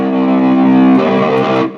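An electric guitar chord rings through an Ibanez PT 5 distortion effect, with low EQ at the middle and level at 10. One thick, saturated strum sustains loudly, then a second brighter attack follows and the note fades out.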